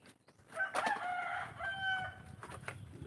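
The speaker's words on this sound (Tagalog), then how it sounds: "Ingay ng manok mo." A rooster crows loudly and close by, one long drawn-out call with a rising and falling tone, followed by quieter background noise.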